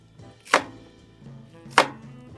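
An onion chopped on a board at an outdoor campfire: two distinct knife strikes about a second apart, close and crisp, over a quiet background with no voices.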